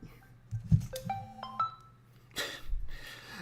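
A mobile phone rings during an online pub quiz, giving a short run of rising electronic ringtone notes, close but moderately quiet, followed by a brief rustle.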